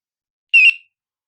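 A budget LY-17-XPE solar-powered bicycle light gives its sound signal as one short, loud, shrill beep of about a third of a second, close by and alone.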